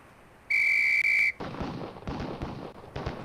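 A sharp, steady whistle blast in a video game shooting drill, held under a second with a brief break, followed by a series of booming gunshots.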